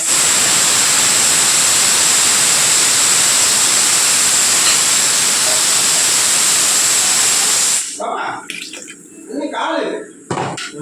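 A loud, steady whirring roar of a mixer grinder runs for several seconds, then cuts off abruptly and a voice begins speaking.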